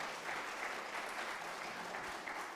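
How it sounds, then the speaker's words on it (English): An audience at a local federal election candidates' debate in Perth-Wellington breaks into applause, a short, even burst of many hands clapping together at moderate volume. "You can applaud for that."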